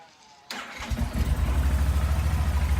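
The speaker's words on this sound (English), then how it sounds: "We can start the bike here to prove that." A Yamaha Super Tenere motorcycle engine cranks and catches after a short silence, then settles into a steady, close idle with a low rumbling pulse.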